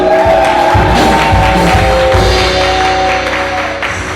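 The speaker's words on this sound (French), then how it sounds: "Monsieur et Madame Lima, j'aimerais qu'on les applaudisse." Wedding guests applaud the bride's parents, a broad, loud crowd clapping with some cheering, layered over sustained background music tones.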